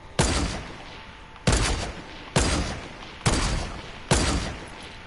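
An enemy player's gun firing in a video game: five loud, sharp single shots, each followed by a short fading tail, spaced evenly about a second apart, with no talk.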